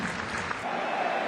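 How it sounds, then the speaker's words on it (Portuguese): Stadium crowd applauding during a minute of applause in Australia, a football tribute; a faint, steady wash of distant clapping that lasts only a moment. "Com 1 minuto de aplausos na Austrália"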